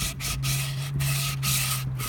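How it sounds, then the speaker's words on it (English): Hand sanding a wooden sword blade, a steady scratchy rubbing with repeated back-and-forth strokes and short pauses between passes, close up, over a low constant hum, with no talking. "I'm gonna sand this down"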